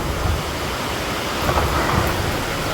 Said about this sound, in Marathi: फुल मजबूत पाऊस पडतो